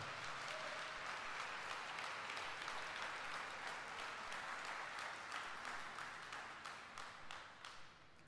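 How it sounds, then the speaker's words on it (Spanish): A church congregation applauding, a broad, sustained roar of clapping that thins into separate claps as it dies away. "Denle un fuerte aplauso al Señor."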